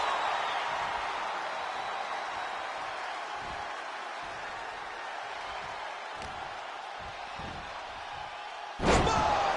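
In the WWE 2K25 wrestling video game, a wrestler lands a splash move: one sharp, heavy slam near the end cuts through a steady murmur of arena crowd noise.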